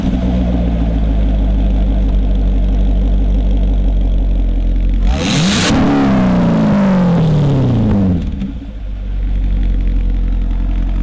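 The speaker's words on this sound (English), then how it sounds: "why don't you guys rev your engines? Let's hear your exhaust." A 2018 Mustang Roush sports car idles with a deep exhaust rumble, then a sharp, loud rev surges and falls away over a few seconds before settling back to a steady idle.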